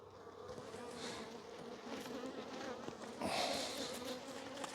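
Bees buzz steadily and close up as the top box of a hive is opened in March, a dense continuous hum that swells louder toward the end, with no talking.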